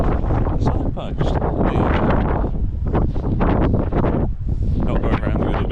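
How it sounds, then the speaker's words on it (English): Wind buffets the microphone continuously with loud, low rumbling gusts, and a voice can be heard talking underneath. "It's all a bit windy, so not sure how good this sound will be."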